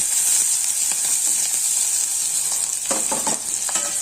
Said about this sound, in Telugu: ఆయిల్లో ఈ ఆనియన్స్ కట్ చేసుకున్నా ఒక ఆనియన్ వేసేస్తున్నాను